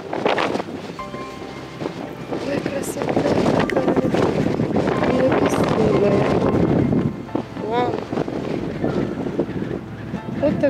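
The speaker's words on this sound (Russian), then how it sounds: "Ветер сильный." Strong wind buffets the microphone at a canyon lookout on Hawaii, a loud continuous roar and rumble that swells heavily through the middle and eases slightly near the end, with people talking faintly underneath.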